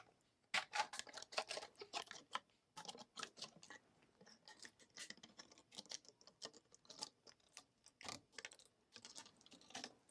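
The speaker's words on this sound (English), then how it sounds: "I'm going to cut off the excess material." Quiet, close snipping and crackling clicks as excess Essix ACE plastic is cut away from a dental appliance, coming in irregular bursts of short sharp cuts with brief pauses.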